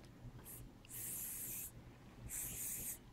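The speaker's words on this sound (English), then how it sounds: "I'll have to spray it a lot" Adhesive remover sprayed onto a wound dressing during a dressing change: a short hiss, then two longer bursts of aerosol spray, close and fairly loud in a quiet room.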